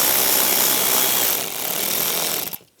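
A power tool driving screws into interior trim on a 2010-2017 Chevrolet Equinox, a loud continuous buzzing whir close by that dips briefly, then cuts off sharply, with no talking.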